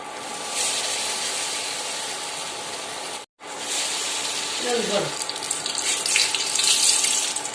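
Sweet jackfruit cutlets sizzling steadily in hot oil, a loud continuous broadband frying hiss that breaks off briefly, then resumes with added crackle and a few spits toward the end.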